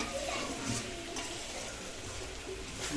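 Native chicken meat sizzles and is stirred with spices in a pan, a steady soft frying hiss with occasional scraping of the spatula, under a voice talking.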